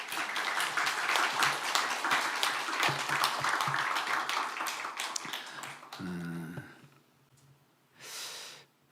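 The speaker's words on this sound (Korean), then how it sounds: "우리 목사님 나오실 때 큰 박수로 한번 환영하겠습니다" A church congregation applauds during a Sunday worship service at Seongeun Church as the pastor comes forward, dense and steady clapping that tapers off before a short pause and a brief rustle.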